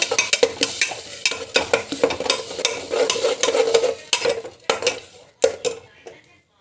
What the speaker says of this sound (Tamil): டொமாட்டோ பியூரி ஆட் பண்ணிவிட்டு நல்லா வந்து வதக்கிருக்கோங்க